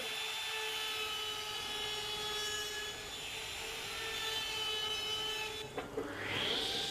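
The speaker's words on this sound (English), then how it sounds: "rounding over the corners on the box now" A high-pitched power tool whines steadily, like a router rounding over the corners of a wooden box, with a brief shift in pitch near the end.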